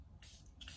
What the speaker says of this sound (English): we're gonna spray one of them